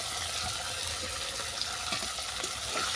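Ground turmeric, chili powder and salt being sautéed in a pan for a bitter gourd curry, giving a steady, close hiss and sizzle with faint watery crackle throughout and no talk.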